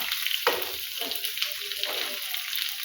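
Steady sizzling of chicken frying in hot oil for butter chicken, continuous and close, with occasional soft stirring scrapes and no voices.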